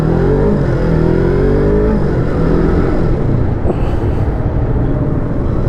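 A first-generation Yamaha MT-03 motorcycle engine roars loud and close as it revs and accelerates, a dense continuous drone with rising pitch sweeps and heavy low rumble.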